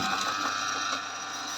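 An embroidery machine stitching a long leaf motif, a fast continuous mechanical whir and rattle at steady volume, close up for a brief stretch.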